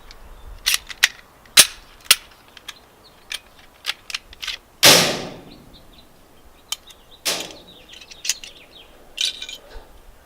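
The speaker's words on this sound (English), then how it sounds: "show you guys how to take apart a Glock" A Glock pistol is field stripped one-handed, with a run of sharp, close metallic clicks and snaps at irregular intervals and one louder slide clack near the middle.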